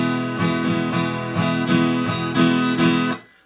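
A guitar strums a rhythm timing exercise for kids, with seven or eight evenly spaced chord strokes ringing close and clear before the sound is cut off.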